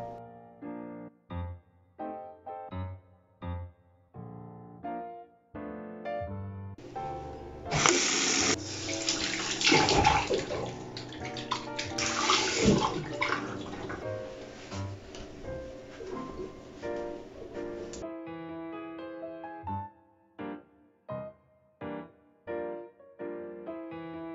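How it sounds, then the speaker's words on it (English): Tap water runs into a sink for about ten seconds in a kitchen before baking, framed by lighter clatter and handling sounds, with no talking. "I'll go wash my hands"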